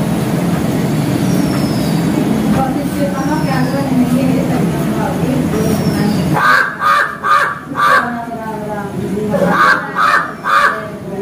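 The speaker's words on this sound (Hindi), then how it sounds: "कौवा बोल रहा है" A crow caws in a quick series of harsh calls, loud and close, after a stretch of rumbling background noise, with a person talking at the start.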